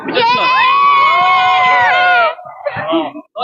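Students celebrating their SSC exam results let out a loud, sustained group cheer for about two seconds that breaks off into scattered excited voices.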